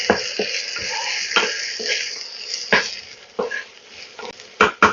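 Half a teaspoon of chopped garlic fries in oil in a pan over a medium flame, a steady close sizzle broken by repeated scraping stirs of a spatula.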